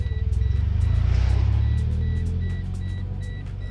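Inside a car with an aftermarket exhaust, a seatbelt warning chime beeps in a steady repeating pattern over the loud, low rumble of the idling engine.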